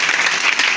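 A church congregation claps together during a Pentecost worship service, a dense steady wash of hand claps lasting under a second with no pauses or talk over it.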